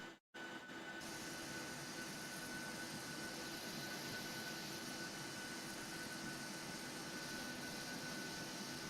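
Boeing 737-800 auxiliary power unit in a flight simulator spins up after a brief click, settling into a steady whining hum with a broad airy roar that holds throughout.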